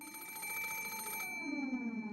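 A telephone on a bedside table rings in the game Umineko Chiru, a bright, steady electronic trill that cuts off and leaves a fading tonal hum, loud and alone.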